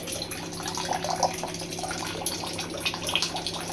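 Water streams steadily from the tap of a Plus Matt Grey RO+Alkaline 14-litre purifier with a 100 GPD membrane. It makes a continuous, fairly quiet trickling splash close by, with small bubbly accents and no talk.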